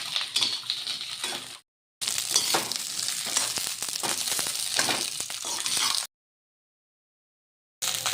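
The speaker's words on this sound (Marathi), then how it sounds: "आता तुम्हाला ह्या फ्राय करून दाखवते ह्या शेंगा" Green pea pods frying in a pan make a loud, close sizzle with crackling and stirring scrapes, broken by two sudden silent gaps where the sound cuts out entirely.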